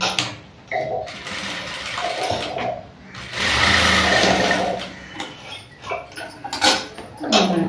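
Sewing machine running in bursts while stitching silk blouse fabric for a princess-cut blouse, with irregular stops and starts and some clattering handling noise, close and moderately loud.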